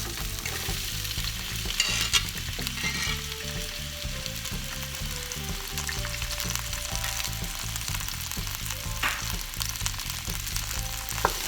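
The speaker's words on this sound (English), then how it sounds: "Got 3 tablespoons of oil, and then I'm gonna put onions." Onions fry in about three tablespoons of oil, giving a continuous close sizzle with light stirring noises, steady and moderately loud, while low tonal background music plays underneath and nobody speaks.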